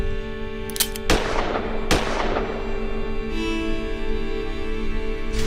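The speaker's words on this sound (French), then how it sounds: "Il a pris le flingue et nous a tiré dessus." Handgun shots ring out, a few sharp, separated bangs in the first two seconds over a steady sustained tone, followed by a lingering tonal hum.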